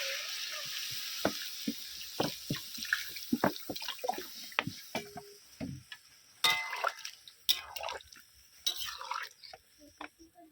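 Water poured into a pot of chicken curry with fried potatoes, splashing and sizzling as it hits the hot pan, broken by scattered clinks and scrapes of a spoon.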